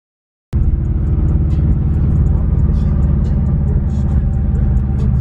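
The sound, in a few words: car engine warming up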